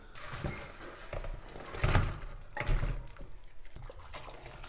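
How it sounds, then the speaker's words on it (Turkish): Boiled trotter water drains off from a pot in a steady, close, noisy wash of liquid, with a few louder splashing surges and no talking. "2-3 dakika kaynadı ve bunun altını kapatıyorum ve suyunu süzüyorum"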